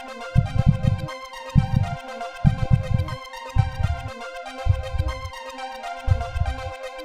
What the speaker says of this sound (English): a heartbeat increasing in speed and volume as the player's health decreased